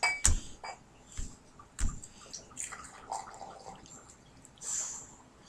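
Beer pouring from a quart bottle into a glass, a liquid gurgle and splash with a few sharp clinks near the start, fairly close and moderately loud, with no talk over it.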